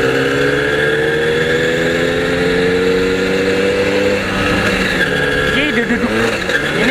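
A DKW Hummel moped engine runs in first gear, a loud, close two-stroke drone with a pitch that climbs steadily and then wavers as revs shift near the end.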